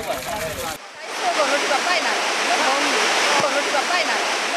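A steady, dense roar of heavy rain pouring down on a tarpaulin tent camp, continuous broadband hiss filling the whole stretch after a brief burst of voice at the start.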